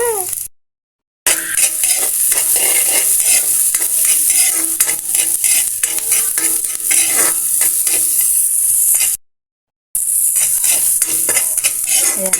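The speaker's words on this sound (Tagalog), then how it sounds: "Lagay na natin yung ating bawang at sibuyas." Garlic and onion sautéing in a pan, a steady loud sizzle with repeated stirring scrapes throughout, interrupted by two brief silent gaps.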